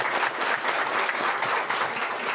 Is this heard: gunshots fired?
no